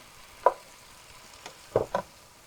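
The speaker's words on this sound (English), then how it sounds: "A couple more, sauteing all together" Eggplant, tomato and tomato paste sauté together in a pan, a faint low sizzle marked by a few soft scraping stirs, one early and two close together near the end.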